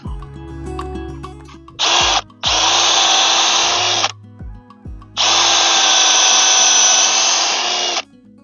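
A power drill boring into the trunk of a five-year-old huanghuali tree: three loud, close bursts of high whining drilling, with a short pause between the first two and a long final run.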